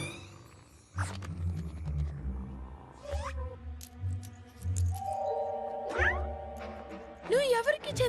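A cartoon cat meows several times, with rising, wavering cries standing out amid animated-series background music and effects, and voices talking in between.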